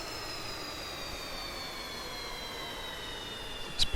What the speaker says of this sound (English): Let's power down the engines.